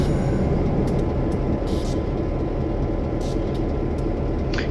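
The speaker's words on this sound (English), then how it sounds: "It really does sound like an American EMD F7 engine, which is what it's modeled." A model train modeled on an American EMD F7 locomotive rolls downhill with a steady, loud rumbling drone and a few faint high hisses, alone without talk.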